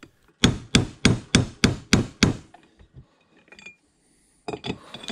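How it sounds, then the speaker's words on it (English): A brass punch is hammered seven times in a quick, even rhythm, driving a press-fit clutch onto a hub on a Bridgeport mill power feed. Sharp, close metallic strikes are followed by faint clinks and a few more blows. "so just kind of drove it home with a brass punch"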